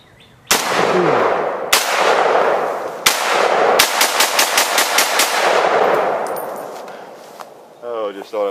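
Rifle fire from an Israeli FN FAL in the woods, loud and close: a few single shots spaced apart, then a quick string of about eight rapid shots, each ringing off with echo before the tail fades.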